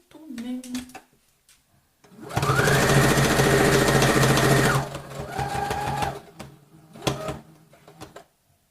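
A domestic sewing machine stitches a straight seam in one steady, loud burst of about two and a half seconds, then runs briefly at a lower pitch. Short mechanical clicks and handling noises come before and after it.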